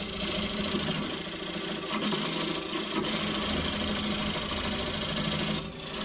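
A wooden bowl spins on a wood lathe as a gouge cuts its contour, giving a steady, loud, continuous whir and scraping hiss with small wavers in tone and a brief drop near the end.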